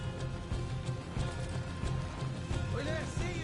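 Horse hooves clop in a steady, rapid rhythm in the video game Red Dead Redemption 2 over a busy noisy background, with a short whinny rising near the end.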